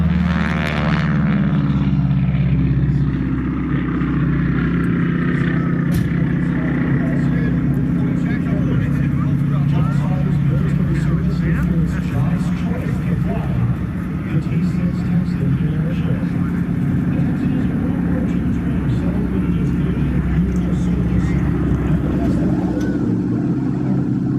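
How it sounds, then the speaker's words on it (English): A North American T-6 trainer propeller plane drones loudly and steadily throughout, nearby at an air show in Apple Valley, with a person speaking over the engine noise. "And our T6 training plane."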